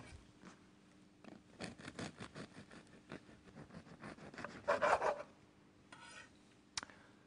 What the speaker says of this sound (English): First, slice the bread.